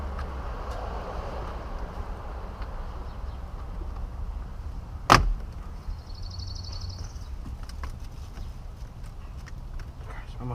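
A single sharp plastic snap sounds as a trim panel pops free inside a Mitsubishi Lancer Evolution X, standing out against a quiet background with faint talking.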